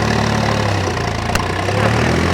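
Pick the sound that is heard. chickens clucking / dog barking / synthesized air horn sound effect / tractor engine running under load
tractor engine running under load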